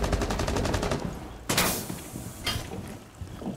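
A quick rattling burst of automatic gunfire in Rainbow Six Siege, then a sharp loud shot and a second crack, close and punchy, with game noise in between.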